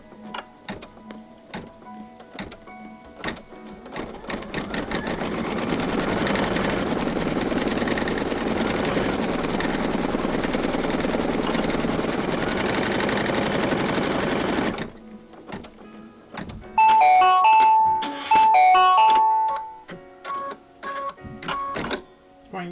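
An embroidery machine stitches fabric down onto a bunny pillow wrap, a steady rapid mechanical whirring that builds and holds for about ten seconds before stopping, followed by a few short electronic beeps and clicks.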